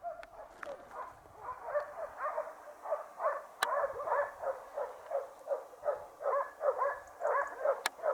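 Several hunting dogs bark repeatedly in a rapid, overlapping rhythm during a wild boar hunt, somewhat distant, continuing without pause throughout.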